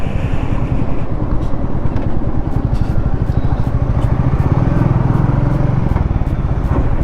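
Motorcycle engine running steadily while riding in eco gear, a continuous loud pulsing drone with a low rhythmic throb throughout, no voices.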